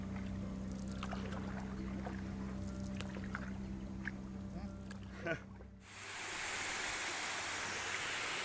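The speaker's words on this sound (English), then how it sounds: "Nice waterfall coming out of the jungle, 2 little streams" Continuous rushing water from jungle streams and a waterfall beside the Mekong River fills the scene, first mixed with low engine-like hum and faint voices, then a broad, loud hiss of falling water.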